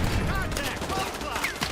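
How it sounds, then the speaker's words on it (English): Lever action shotgun firing in Call of Duty Modern Warfare 2 Remastered, heard as dense overlapping gunfire in a busy firefight, loud and continuous with other game noise and possible voices layered in. "You gotta love lever action shotgun."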